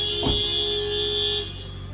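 One short honk from a car horn as a car is pulled out on a foggy morning, followed by a steady hum and electronic tones.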